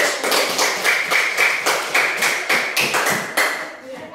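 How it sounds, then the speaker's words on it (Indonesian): Audience clapping in unison at a school coaching session, a steady rhythmic beat of about two claps per second, close and fairly loud, fading out at the end. "Oke, kita kasih tepuk tangan dulu."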